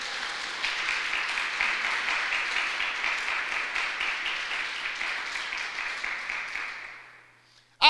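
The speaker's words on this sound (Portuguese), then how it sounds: "dá uma salva de palmas bem forte para esse Jesus" A church congregation claps loudly and steadily during a sermon, a dense, even roar of hands that holds for several seconds, then fades away before a short voice cuts in at the end.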